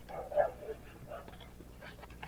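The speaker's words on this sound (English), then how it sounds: "the dogs are barking across the street because people are getting off of school right now" Pit bulls bark across the street, a few faint, distant yelps and woofs nearly buried in low background rumble.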